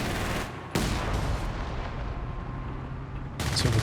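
Strafing-run gunfire in Company of Heroes 3: a sudden loud roar of rapid fire and blasts, sustained for a few seconds, then another burst near the end.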